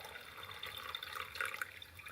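Melted snow water mixed with pine needles pouring through a filter at an off-grid log cabin in winter, a steady soft trickle and splash close by with no talking.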